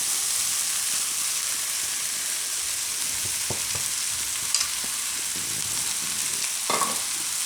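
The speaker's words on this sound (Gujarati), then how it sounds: "હવે આપણે એમાં ભાત નાખી દઈએ." Cooked rice is tipped into sprouted fenugreek pulao frying in a pan and stirred, with a steady loud sizzle broken by a few soft scrapes and taps of the spoon.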